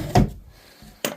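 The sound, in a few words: pull-out drawer opening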